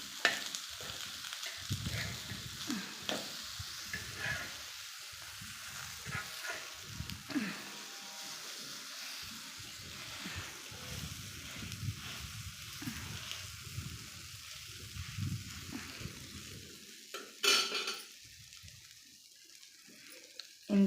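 Brinjal slices being stir-fried and turned in a pan give a steady low sizzle with soft scraping and stirring strokes throughout, a brief brighter clatter near the end, and no talk.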